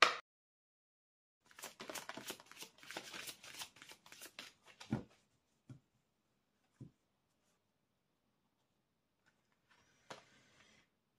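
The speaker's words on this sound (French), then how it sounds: "Donc, je vous tire une carte du lâcher prise." Oracle cards being shuffled in a quick rustling riffle lasting a few seconds, followed by a few soft taps and a single card drawn and laid down, then near silence with a faint brief rustle.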